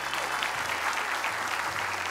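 A small group claps steadily for Kak Lulu during a Quran memorization recitation session, continuous even applause with no pauses throughout.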